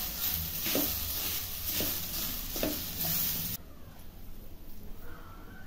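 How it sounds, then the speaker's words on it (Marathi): Modak filling being roasted in a pan, a soft sizzle with a few stirring scrapes that stops partway through, leaving quieter background. "आता थोडंसं असं भाजून घ्यायचं, थोडासा कच्चा पण गेला की मग यामध्ये आता गूळ टाकायचा आहे।"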